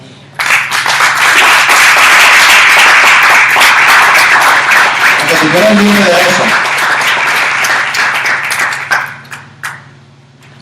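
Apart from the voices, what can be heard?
audience applauding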